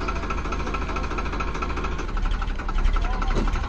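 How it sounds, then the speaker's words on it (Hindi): A loaded Eicher 485 side-gear tractor engine runs with a steady, loud diesel chug and rattle, growing slightly heavier toward the end. "वही पीछे आई सर 485 साइड गियर वाला ट्रैक्टर है ये। इसकी परफॉर्मेंस और देखते हैं।"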